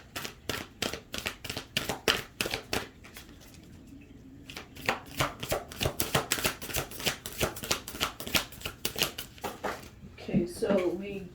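Oracle cards being shuffled and pulled, a rapid run of crisp papery flicks and riffles in quick bursts, close and fairly loud, pausing briefly midway before resuming, with a little rustling at the end.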